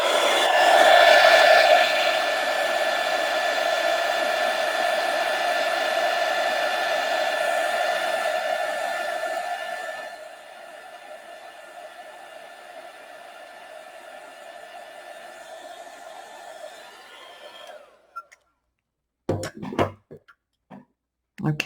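Hair dryer blowing on a watercolor painting of an egg, a steady loud whirring hum that drops to a lower setting partway through, then cuts off, followed by a few soft clicks and knocks.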